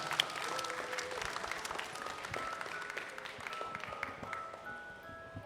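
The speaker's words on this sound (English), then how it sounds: "Once again, round of applause." Audience applause at a live event, a steady wash of many hands clapping with faint cheering and a brief voice underneath, continuous and fairly close throughout.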